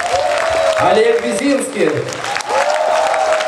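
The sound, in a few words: audience applause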